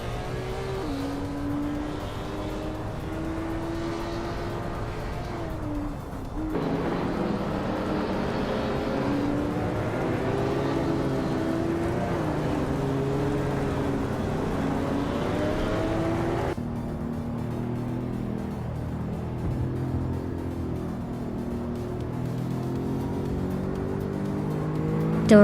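Race cars in a video game roar continuously, engines droning and shifting pitch as they jostle for position, steady and loud throughout with no talking.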